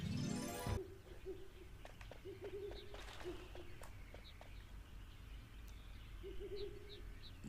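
Owl hooting in Final Fantasy 9, a series of soft repeated hoots at moderate distance over quiet game ambience, with faint clicks and chimes scattered between.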